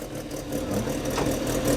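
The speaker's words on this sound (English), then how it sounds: "Love the lumpy idle of the big cams in that." A car engine with big cams, a straight-cut gearbox and a limited-slip differential idles at an evening car meet, giving a close, uneven, lumpy rumble that swells slightly over a brief stretch.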